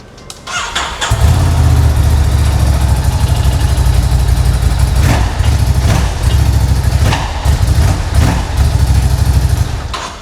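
A Ducati Scrambler 1100cc motorcycle fires up and settles into a loud, throbbing idle with a steady low rumble and occasional revs, heard up close and alone.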